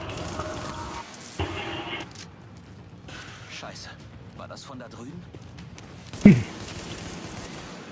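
A turret in The Division fires scattered sharp shots at enemies, ending in one louder bang. Voices talk throughout.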